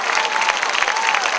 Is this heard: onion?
no